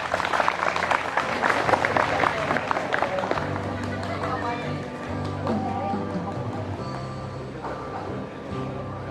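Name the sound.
audience applauding for Pak Molis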